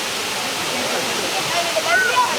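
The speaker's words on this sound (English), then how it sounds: "let's go to the waterfall" Steady rushing water of a waterfall in a Panamanian rainforest near an Embera village, heard as a constant close roar with voices over it.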